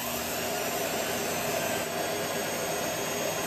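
A mill-lathe combo spindle driven by a treadmill motor runs at a steady high whine with a broad, constant hum and no change in level, heard alone.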